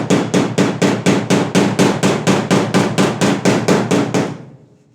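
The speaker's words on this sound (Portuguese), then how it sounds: "Não são batidas muito leves, mas não para arrebentar a carroceria também, batidas firmes." Firm, steady hammer blows on the steel body panel of a 1977 Volkswagen Passat being leveled, around sixteen loud metallic whacks in an even rhythm that stop abruptly and leave a short ringing decay.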